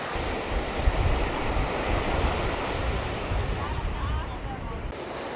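Surf rolls and breaks on the beach at Cala San Vicente, Mallorca, on a red-flag day with a riptide running, a loud continuous wash of waves mixed with wind buffeting the microphone, with a voice faintly underneath.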